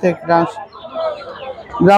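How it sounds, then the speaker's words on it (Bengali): Desi chickens at a village poultry and duck market give short clucking calls in brief bursts near the start and end, with people talking close by. "এগুলো মুরগি দেখো, দেশি মুরগি।"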